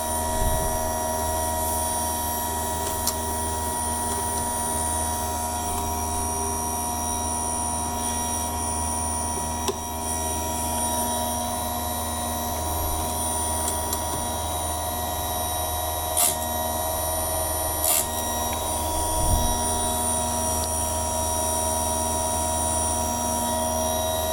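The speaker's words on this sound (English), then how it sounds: "now we're ready to start sharpening the first set of teeth" A file rasps across chainsaw teeth while sharpening them at a 30-degree angle, steady close scraping strokes over a constant background hum, with a few sharper clicks; no one speaks.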